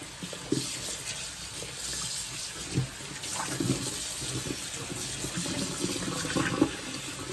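Cold tap water runs into a sink as a teal-dyed dress is rinsed under it, a steady close splashing rush with occasional louder sloshes as the fabric is moved, with no talk.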